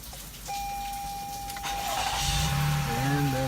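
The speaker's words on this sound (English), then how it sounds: "Now, this part of it, you can start your car." A car engine is started by a smartphone module and plug-and-play remote starter: a steady tone sounds, then the engine catches and settles into a close, even idle.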